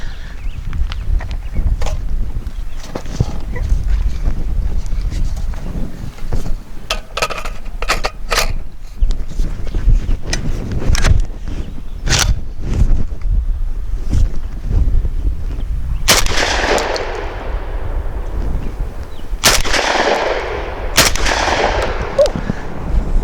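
A Lynx 12 shotgun fires Fiocchi Shooting Dynamics 7.5 shot target loads, 1 1/8 ounce at 1250 feet per second. Loud, sharp blasts come one after another with gaps, and a few shots ring out louder near the end.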